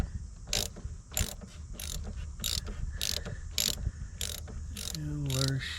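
Ratchet with a socket loosening a bolt on a 1999 Buick, about ten evenly spaced clicking bursts, close and clear over a low background hum, ending with a brief voice.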